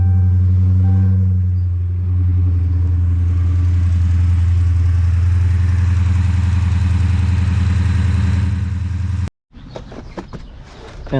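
A Dodge Challenger Scat Pack's engine idles steadily and close by with a low, even rumble for several seconds, then cuts to brief clattering noises.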